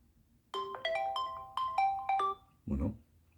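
A ZTE Axon 30 5G phone plays a short melodic notification ringtone, a quick run of bright chiming tones lasting about two seconds, clear and close, followed by a brief soft rustle.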